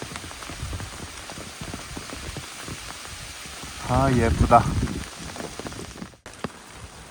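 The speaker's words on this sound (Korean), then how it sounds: "좀 지켜보면서 빗소리를 들어보도록 하겠습니다." Heavy rain falls on tree leaves on Hansan mountain during a downpour warning, a dense close patter of drops throughout, with a brief spoken remark partway through and a soft rustle near the end.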